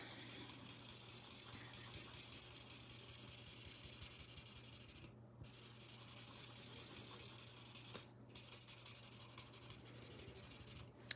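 A marker scrubbing across paper, a continuous close, quiet scratchy rubbing with brief pauses, over a faint steady hum and no voices.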